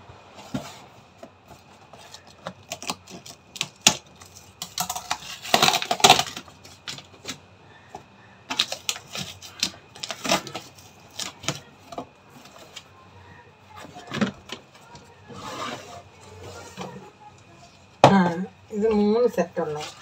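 Delivered parcel of kitchen bowls being unpacked by hand, irregular crinkling, tearing and tapping of packaging in short bursts, close and moderately loud, with someone talking between the sounds.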